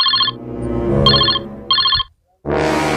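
A mobile phone rings in short, bright repeating bursts with gaps between them, followed by a brief silence and then another loud sound.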